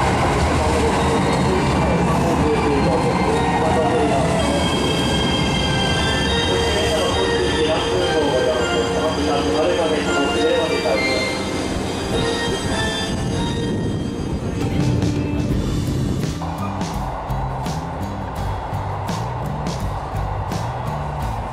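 An electric train in Shikoku rolls steadily along the rails with a continuous rumble and high metallic squeal, the tone shifting near the end as the wheels change pitch.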